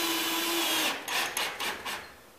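A power driver sinks a screw into the outside edge of a loose, water-damaged 5/8 sheetrock ceiling, a brief whine giving way to several quick, rough grinding bursts close by.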